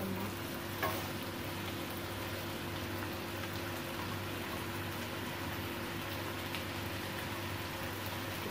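Chicken and vegetables, including pre-boiled carrots and cauliflower, stir-fry in a pan with a little water for cap cai, giving a steady, quiet sizzle and hiss with a faint scrape of stirring near the start.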